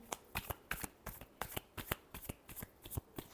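Tarot cards are shuffled by hand in a quick, uneven run of crisp riffling slaps, close and fairly quiet, with no one speaking.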